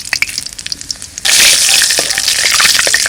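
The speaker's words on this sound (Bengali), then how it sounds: "সরষের তেল, ফোড়নে দেবো তেজপাতা, শুকনো লঙ্কা আর জিরে আছে" Bay leaf, dried chilli and cumin hit hot mustard oil with a sudden loud, bright sizzle that starts after a quieter second of faint spattering and holds steady.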